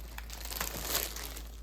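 Plastic zip storage bags with handles and clear plastic panels from Temu being handled, giving close crinkling and crumpling rustles that keep going throughout.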